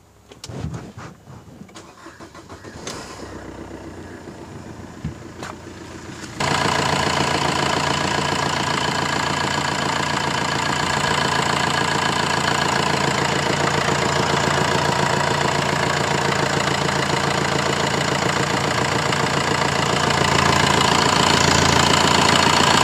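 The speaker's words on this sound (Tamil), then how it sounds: "ஸோ குவாட்டர் ஜெட் இன்ஜின் உங்களுக்காண்டி ஒரு ஸ்டார்ட் பண்ணி காட்டிடவா." A Tata Indica Vista with its Quadrajet engine sits quiet with faint background noise, then cranks and catches about six seconds in, settling into a loud, steady close-up idle that holds to the end.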